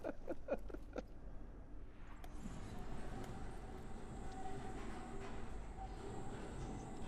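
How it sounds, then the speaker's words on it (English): A phantom tram rumbles in an underground research facility in a survival game, a faint steady rail drone with wheel noise and brief clicks at the start, alone and sustained. "I no longer hear the phantom tram."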